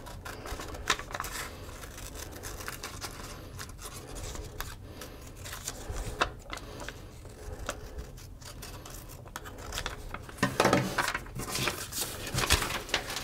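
Scissors snipping and rubbing through material while cutting out a circle to fit inside a candle container, quiet and close with irregular clicks and rustles and no speech.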